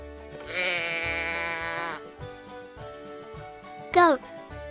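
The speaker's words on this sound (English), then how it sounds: "The sheep says baa, baa." A sheep gives a drawn-out bleat and then a short, sharp second bleat, both over soft background music.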